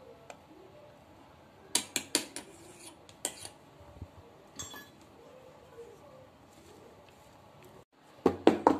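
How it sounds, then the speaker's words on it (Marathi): A cake tin full of eggless mango batter is tapped against a surface, giving a few sharp metallic knocks spread out over a quiet background, then a closing cluster of louder taps. "डबा असा थोडा टॅप करून घेऊया"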